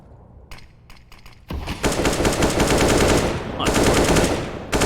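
Sharp gunfire in a competitive Counter-Strike match: a few spaced single shots, then a dense, loud burst of rapid automatic rifle fire sustained over several seconds, close and punchy.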